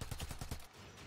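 Rapid, loud bursts of missile fire in a shooter video game, a quick rhythmic volley of about five shots that then trails off into a dull rumble.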